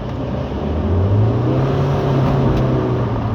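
A Roewe 25 electric car climbs a hill under acceleration, with a steady rising motor whine over a constant loud rush of road and tyre noise heard from inside the cabin.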